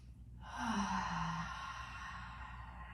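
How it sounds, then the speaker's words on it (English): One deep, drawn-out exhale during a beginner yoga session, close and soft, trailing off gently into quiet room tone. "Take some big full breaths"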